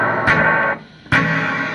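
Two bursts of electric guitar run through a Zoom G5n multi-effects unit set to a Fender-style spring reverb, each sustained and bright with a short dip between them, loud and alone.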